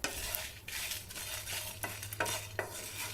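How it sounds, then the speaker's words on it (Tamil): Whole cinnamon stick and cloves fry in a pan on the stove, a steady close sizzle broken by several scraping stirs of a spoon against the pan. "இப்போ இது எல்லாமே ரொம்ப நிறம் மாறாமல் கருகாமல் வறுத்தெடுத்துக்கோங்க."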